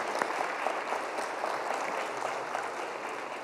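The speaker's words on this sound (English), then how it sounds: "look around at the people standing up, clapping for you" A church congregation applauds in a sustained, dense wash of clapping that holds at an even level throughout, with no speech.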